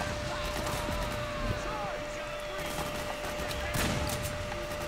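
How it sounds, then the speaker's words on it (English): Gunfire crackles in Metal Gear Solid 4, scattered bursts and single shots over a busy combat din, with a voice talking over the fighting. "There's a lot of people shooting around here"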